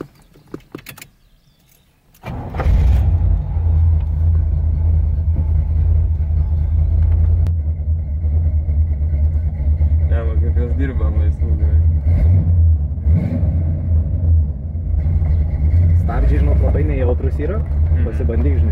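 A 1975 Chevrolet Corvette with a 5.7 L small-block V8 starts up and drives, its loud, steady low engine rumble running continuously after a quiet opening, while people talk inside the car over it.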